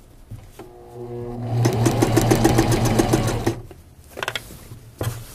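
A sewing machine stitches a crotch seam in a short, rapid run of mechanical clatter. Quiet handling sounds come before and after it.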